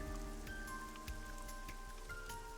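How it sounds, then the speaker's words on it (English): Rain falls steadily in the video game AI: The Somnium Files, a continuous patter of drops on surfaces with occasional louder splashes, heard alongside sustained soft musical tones. "Rain is awful, huh?"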